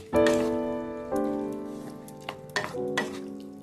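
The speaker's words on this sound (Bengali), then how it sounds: "আমি এটাকে আবার একটু কষাবো" Cumin chicken being stirred and sautéed with chili powder in a pan, with a loud sizzle that swells each time the pieces are turned, set against the scrape of a spoon and a low steady hiss.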